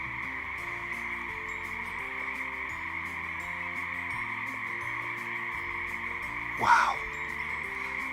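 A huge chorus of frogs croaks nonstop in a marsh, layered trilling calls at steady volume, with one brief nearby exclamation rising over it.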